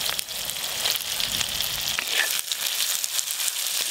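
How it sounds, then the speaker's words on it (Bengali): Chopped onions frying in oil for a chicken curry, a steady close sizzle with bright crackling spatter running throughout, no voices. "পেঁয়াজ কুচিও কিন্তু খুব বেশি লাল লাল করে ভাজবো না একদম হালকা করে ভাজবো"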